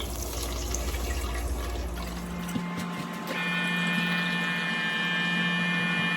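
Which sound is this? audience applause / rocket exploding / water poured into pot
water poured into pot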